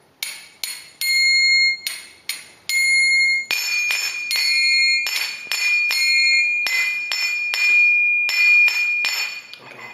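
Bright metallic strikes of kartal hand cymbals, one played plain and one dampened, some short and choked, others ringing out longer, in a quick uneven rhythm, close and fairly loud.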